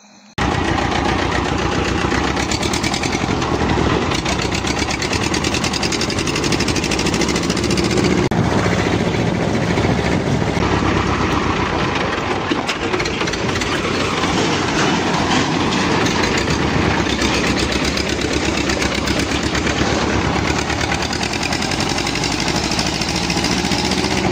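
An old tractor hauling gravel from a farm field, its engine running loud and steady with a constant rattling, clattering drone throughout and no voices.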